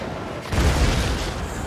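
A Hell Cannon in a video game battle fires a single heavy booming blast that rumbles and fades over a noisy battlefield background.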